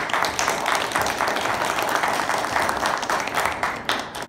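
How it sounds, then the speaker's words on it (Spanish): A crowd claps steadily at an awards ceremony for a presented honoree, a dense, even wash of applause holding at one level throughout before tapering slightly at the end. "Un fuerte aplauso."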